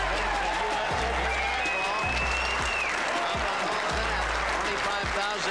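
A crowd at a pool match cheers and applauds loudly in a sustained roar, with whistles and shouts over the clapping and a commentator's voice mixed in.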